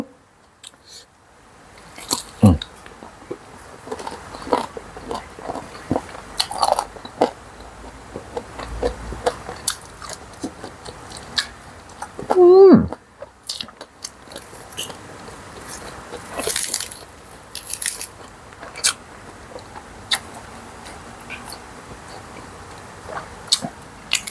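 Grilled pork ribs eaten with sticky rice, giving close, wet chewing and biting with scattered crunchy bites and soft squishes, irregular and steady throughout with no talking.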